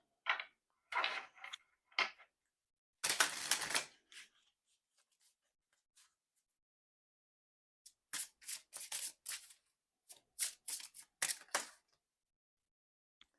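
Oracle cards shuffled by hand in two bursts of crisp riffling and slapping, with a quiet gap between them, close and fairly soft.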